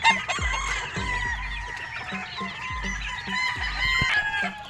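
Gamefowl roosters on a game farm crowing repeatedly while hens cluck steadily around them, close and loud, with several birds overlapping throughout.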